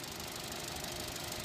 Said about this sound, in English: Had a misfiring on the engine